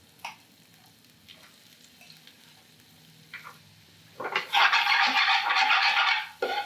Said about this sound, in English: Just as soon as it gets goldeny, you want to start putting your onions in